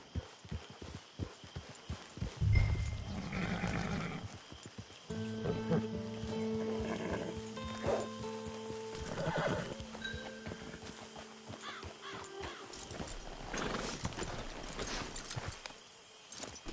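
Horse hooves clip-clop in a steady rhythm with a brief whinny, over game music and ambient tones in Red Dead Redemption 2 Online.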